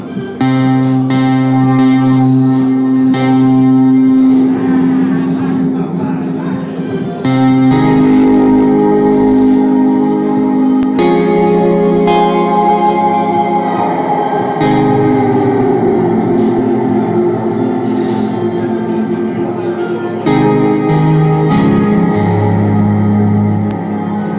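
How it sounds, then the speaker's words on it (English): Sustained Dreadbox Nymphes synthesizer tones washed in reverb, chords shifting every few seconds with long echoing tails and no voice. "now these sliders control the reverb"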